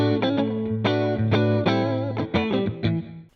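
An electric guitar plays a short run of ringing notes and chords through a NUX MG 50 Li Deluxe Reverb amp model, slightly gritty and warm, with no talking.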